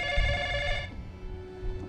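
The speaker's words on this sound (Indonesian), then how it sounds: "Tak lama kemudian sebuah telepon berdering." A telephone rings once in a film, a bright electronic trill that cuts off under a second in, leaving low room noise.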